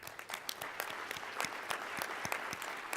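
Audience at a Michigan health-technology conference breaks into applause, a moderate crowd whose individual sharp claps stand out clearly in a quick, uneven patter.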